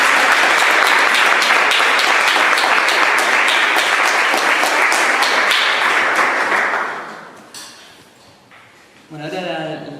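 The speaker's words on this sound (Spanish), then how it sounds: "Primero aplaudamos lo que acaba de decir." Sustained audience applause at a psychoanalysis panel, dense and loud for about seven seconds before tapering off, followed by a brief voice and a few scattered sounds.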